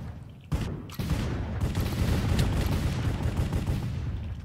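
Shotgun fire in a Minecraft Hypixel Cops and Crimes match: two sharp blasts, then dense, continuous gunfire that carries on loudly to the end.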